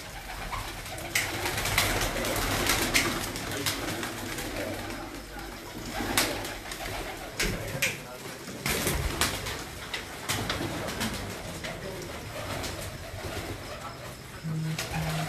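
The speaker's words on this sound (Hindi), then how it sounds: "आपके मेन कबूतर हैं" Pigeons coo softly and repeatedly in the background on a pigeon-keeper's rooftop in Multan, Pakistan, while people talk nearby over steady ambient noise.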